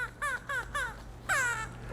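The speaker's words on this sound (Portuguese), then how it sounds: "o corvo é considerado uma das aves, a ave mais inteligente de todas" A crow caws repeatedly, four short, evenly spaced calls followed by a longer, louder caw, heard clearly and fairly close with no talking.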